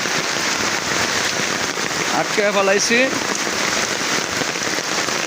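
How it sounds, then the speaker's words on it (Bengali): Heavy rain pours steadily near hills in Sylhet, a dense, close hiss of drops hitting surfaces throughout, with a short spoken phrase heard over it midway. "অনেক বৃষ্টি যে পাহাড় থেকে বৃষ্টি পড়ে সেভাবেই বৃষ্টিগুলো পড়ে"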